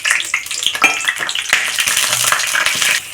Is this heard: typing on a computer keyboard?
no